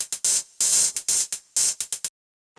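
Percussive drum loop playing back in Ableton Live 11, a run of sharp, bright, noisy hits in an uneven syncopated rhythm, loud and close, ending abruptly in silence.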